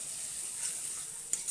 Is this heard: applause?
no